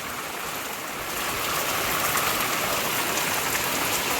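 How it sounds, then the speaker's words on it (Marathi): Heavy rain pours steadily, a dense, loud hiss that swells slightly and continues without a break. "पाऊस बघा परत चालू झाला लय पाऊस लय पाऊस आहे"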